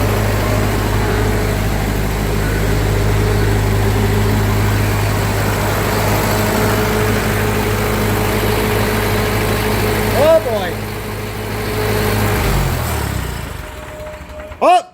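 A 1945 Ford 2N tractor engine idles with a steady, loud, low chugging drone, then sputters and dies as it runs out of gas near the end, leaving brief clatter and quiet.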